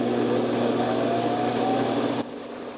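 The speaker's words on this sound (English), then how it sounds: "let's go ahead and turn the lathe on and get turning" Wood lathe driven by a variable-speed treadmill motor, turning bog oak pen blanks: a steady high motor whine with a faint rising tone, close and loud, then stepping down slightly near the end.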